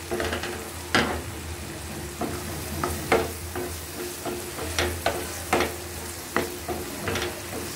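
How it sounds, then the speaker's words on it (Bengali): Onions fry in about two spoonfuls of oil, a constant close sizzle punctuated by repeated sharp scrapes and knocks of a spatula stirring the pan. "বন্ধুরা দেখেন সুন্দর করে এখন আমি এটাকে ভেজে নিব"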